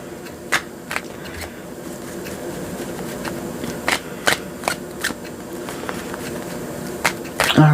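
Tarot cards being shuffled by hand, with a run of crisp riffling snaps and soft card slides spread across the clip, close and fairly loud, with no talking.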